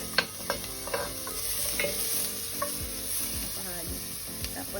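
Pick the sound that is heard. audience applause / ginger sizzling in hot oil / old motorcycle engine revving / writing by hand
ginger sizzling in hot oil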